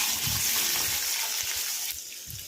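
Onions hit hot oil in a kadai and fry with a bright, continuous sizzle, close and fairly quiet, with soft stirring bumps underneath; the hiss thins out slightly near the end.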